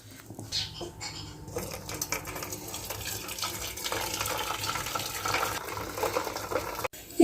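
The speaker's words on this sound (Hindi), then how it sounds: "तो अभी हम इसको छान लेते हैं यखनी को।" Chicken yakhni stock for Kabuli pulao is strained, making a soft, continuous liquid patter and trickle with faint clinks of kitchenware, fairly quiet and close.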